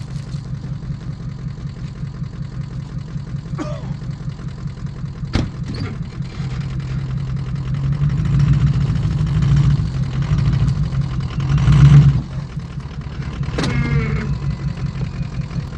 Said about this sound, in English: I'm going to back the truck up.